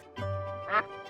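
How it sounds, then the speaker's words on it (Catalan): A duck gives a short, clear quack at close range. The call is heard on its own against a quiet background. "El so que produeix un ànec"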